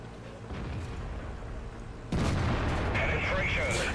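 A FV215b heavy tank gun fires in a video game, one sudden loud blast halfway through that lifts the whole mix, with a brief ringing tail over a steady game rumble.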